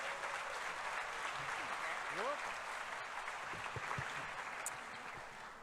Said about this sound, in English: Please give a round of applause for Interim Superintendent Dr. Balch.